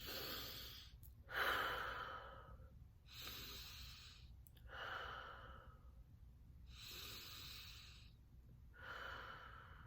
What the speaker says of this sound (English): 3 deep breaths in and out